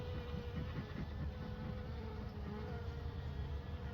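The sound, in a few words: honey bees buzzing during trapout from a wall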